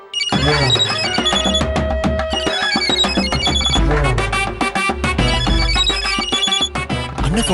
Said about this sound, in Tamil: அண்ணன் ஃபோன் பண்றாரு. எடுத்து பேசுங்க.